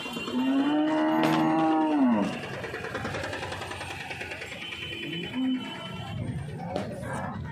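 Cattle low at a cattle market in Chakan, Pune. A long, loud moo opens the scene, and a shorter one follows a few seconds later over the murmur of people talking nearby.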